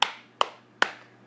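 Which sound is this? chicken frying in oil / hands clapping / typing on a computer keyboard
hands clapping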